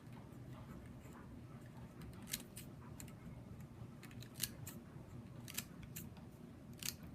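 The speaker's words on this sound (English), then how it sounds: "So these you just cut through like this, okay, all the way down as far as you want to go." Scissors snip a strip of paper in a quiet room, a handful of faint, crisp cuts spaced irregularly over a low steady hum.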